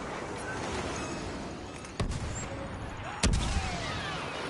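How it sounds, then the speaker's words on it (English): Explosions in the Star Wars Battlefront beta, set among crashed TIE fighters and an X-Wing: two sharp blasts roughly a second apart punch through a steady roar of battle noise. "And great effects when it comes to like the explosions and whatnot."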